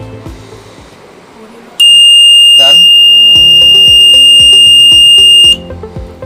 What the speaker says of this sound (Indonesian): dia akan menghidupkan buzzer ini, speaker, sebagai pemberitahu jika terdapat asap di depan sensor ini.